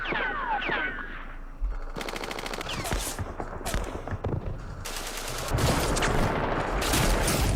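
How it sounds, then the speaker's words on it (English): Gunfire in the Vietnam war game Campaign Series Vietnam, Battle of Ba Ria 1968: repeated machine gun bursts and rattling fusillades, loud and close, alternating with shorter single shots and brief pauses. "Let's utilize all of our machine guns."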